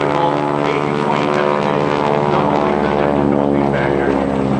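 A North American T-6 Texan propeller trainer flying at an airshow, its radial engine giving a loud, steady droning roar with a rich harmonic whine that holds constant throughout.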